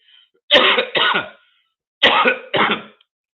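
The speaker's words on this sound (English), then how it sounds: "excuse my coughing" Four harsh coughs in two pairs, close and loud, with a brief pause between the pairs and no talking.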